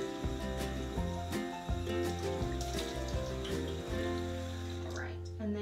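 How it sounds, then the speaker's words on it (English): Running water splashing steadily as a face is rinsed at a sink, with continuous music playing loudly over it. "And we're gonna rinse."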